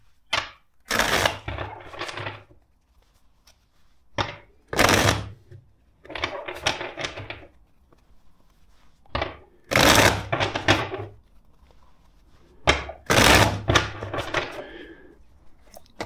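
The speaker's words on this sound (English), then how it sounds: "Let's shuffle the deck four times for you." A deck of tarot cards shuffled by hand in repeated bursts of riffling and tapping, about four close, crisp rounds separated by short pauses, with no talking over it.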